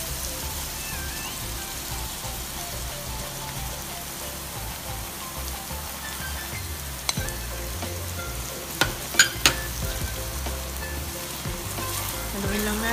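Seafood stir-fries in a pan with oyster sauce, giving a steady close sizzle with light stirring, a few sharp clinks of a utensil near the end, and no talking.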